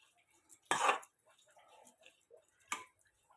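Spoon scraping and clinking in a pan as coriander is stirred into brinjal (vankaya) fry, with one sharp scrape, a few soft stirring sounds, then a second clink, close and fairly quiet.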